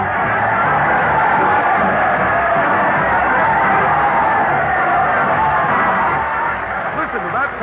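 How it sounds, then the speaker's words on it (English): Large crowd at a radio show parade cheering, whooping and yelling loudly and continuously, a dense roar of many voices sustained throughout. "Listen to that crowd cheer as Fred Allen leads his parade of stars to the old Town Hall"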